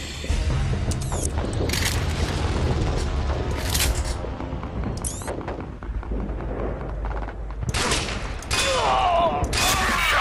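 Sniper rifle shots in the video game Sniper Team 2, sharp booming reports standing out over a busy, loud mix of mechanical clatter and game sounds, with a voice briefly audible.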